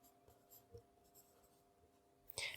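Pen writing out a question during a physics lesson on Kirchhoff's law, quiet scratchy strokes in a near-silent room, ending with a brief louder scrape of the pen.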